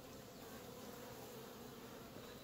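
A young honey bee colony under a month old, its steady buzzing hum filling the air evenly and softly throughout, with no voices present.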